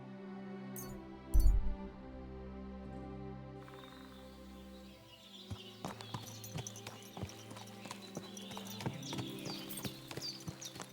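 Horse hooves clip-clop steadily and close in Kingdom Come: Deliverance 2 as the horse is ridden, with a brief louder thump near the start and sharp, regular hoof strikes over a low game ambience.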